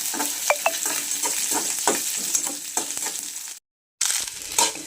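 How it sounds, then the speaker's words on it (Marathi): Onion frying with mustard seeds in a home-kitchen pan, a steady crackling sizzle with sharp pops and spatters that runs throughout, broken briefly by a moment of silence near the end. "मोहरी घालायची त्यानंतर कांदा घालायचा चांगलं भाजून द्यायचं"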